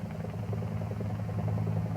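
An Air Force helicopter returning to base gives off a steady low rotor and engine drone with a throbbing beat, moderately loud and unbroken across the short stretch.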